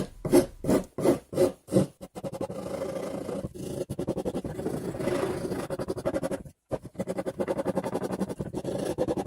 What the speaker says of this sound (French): Je vais passer la râpe pour enlever les éclats dus à la découpe de la scie.